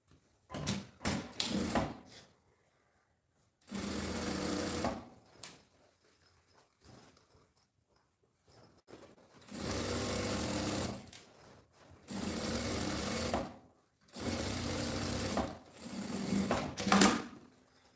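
A sewing machine stitches a seam along the bottom edge of a women's backpack, holding the lining in place, in repeated bursts of rapid mechanical chatter separated by pauses and quiet handling sounds.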